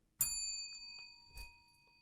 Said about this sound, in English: you got to actually hit the bell